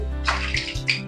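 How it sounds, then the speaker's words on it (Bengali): Palak puri made with spinach dough fries in hot oil, making a brief, close hissing sizzle with a few bubbling bursts. "ভেজে নিচ্ছি।"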